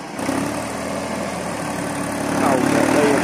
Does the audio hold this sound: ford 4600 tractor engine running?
yes